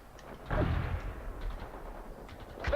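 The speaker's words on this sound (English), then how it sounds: "They're under fire." Gunfire in the World in Conflict video game: one heavy, booming shot or blast up close, followed by a lingering low rumble and faint scattered reports.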